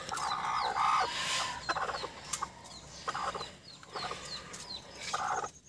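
Three newly hatched chicks peep close by, repeated short high chirps in irregular bursts, with some soft clucking mixed in.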